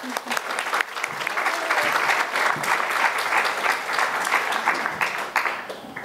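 An audience applauds to welcome author John Barricelli at a Darien Library meet-the-author event, with dense, steady clapping that holds at an even level throughout.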